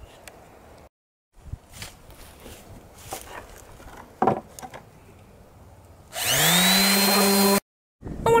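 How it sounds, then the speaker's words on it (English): Pieces of a wooden sink caddy are sanded with scattered scraping and rubbing strokes, followed near the end by a loud, steady mechanical whine lasting about a second and a half, heard close and alone. "Now I'm going to go ahead and sand these down"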